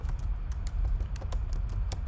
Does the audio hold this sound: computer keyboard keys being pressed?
yes